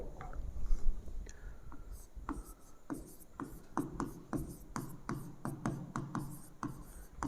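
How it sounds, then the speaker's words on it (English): A pen writes out a definition of reflection of light on paper, making a close, steady run of short scratchy strokes and taps in an irregular rhythm. "Now I write the definition"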